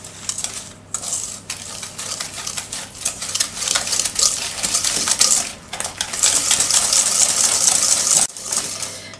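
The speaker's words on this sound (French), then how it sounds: "je vais fouetter le jaune et le sucre pour obtenir une masse bien blanche et mousseuse" A whisk beats egg yolks and sugar in a bowl, making a fast, continuous metallic clatter with a few brief pauses between bursts of whisking. It is close and fairly loud, with no voices.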